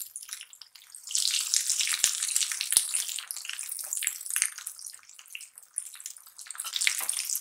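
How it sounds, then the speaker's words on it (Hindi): Mixed vegetable cheese cutlets deep fry in a pan of hot oil over a high flame, a continuous crackling sizzle with fluctuating intensity heard close up and without talk. "डीप फ्राई करूँगी कटलेट को।"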